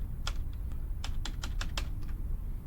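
Clicky keystrokes on a computer keyboard, a short run of separate taps with uneven rhythm over a steady low background hum, close and fairly quiet, no talking.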